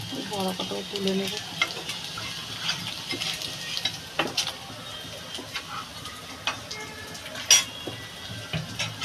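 Gourd leaf fritters fry in oil in a pan over low heat, a steady soft sizzle with occasional light ticks and utensil scrapes, close by and without talk.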